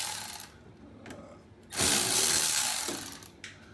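Ratchet work on bolts under a 2019 Toyota Prius C during an eCVT fluid change, with short clicking bursts at the start, then a loud sustained stretch of rapid ratcheting and a few quieter clicks near the end.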